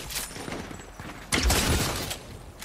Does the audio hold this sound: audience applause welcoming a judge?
no